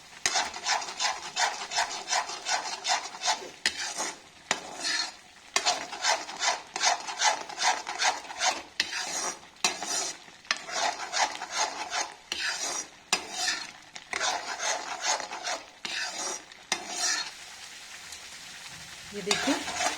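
A spoon scrapes and rubs through chili, turmeric and coriander powder in a pan. The strokes are rhythmic and repeated, with a sizzle underneath and brief pauses between them.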